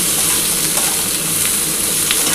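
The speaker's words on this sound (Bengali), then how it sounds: "আগে প্রথমে আলু আর কুমড়োটাকে ভেজে নিচ্ছি, ভেজে একটু হালকা ব্রাউন হয়ে গেলে আমি তুলে নেব।" Potatoes and pumpkin frying in hot oil, a loud, steady, close sizzle with crackling that runs throughout without talk.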